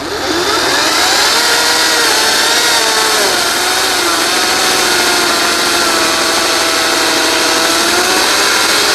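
A Ryobi 40V battery chainsaw runs continuously at close range, a loud, steady electric whine with slight pitch wavering throughout and no talk.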